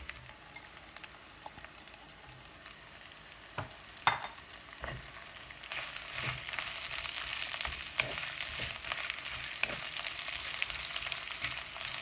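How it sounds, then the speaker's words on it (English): Sliced onions frying in a pan for Chicken Chinthamani, starting as a soft sizzle with a few sharp ticks, then swelling into a loud, steady, dense crackle. "add sliced onions"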